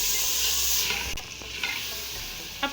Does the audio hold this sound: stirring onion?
yes